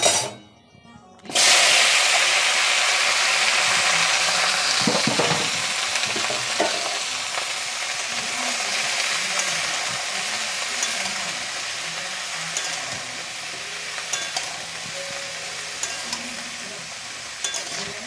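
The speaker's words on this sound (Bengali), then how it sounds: "তো এই যে এখন আলু ফুলকপিটাকে সুন্দর করে ভাজবো। চলো এটাকে এখন ছাড়ি" Potatoes and cauliflower hit a hot pan and fry with a sudden loud sizzle that continues steadily, with occasional stirring scrapes and faint background noise, no talking.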